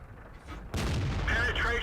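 A British AT 15 tank destroyer fires its main gun in World of Tanks, a single loud, sharp boom followed by a rumbling tail, heard over steady in-game background noise.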